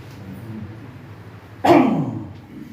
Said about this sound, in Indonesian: Agak batuk nih.